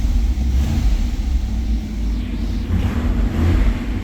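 A stock 1991 GM car engine with stock exhaust idles quietly with a low, steady rumble, smooth and unrevved, with no exhaust roar and no talking.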